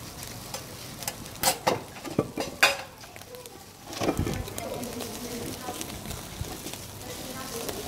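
Sardines in a turmeric fish sauce sizzling on a grill, a steady crackle broken by sharp clinks and scraping of utensils, with people chatting nearby.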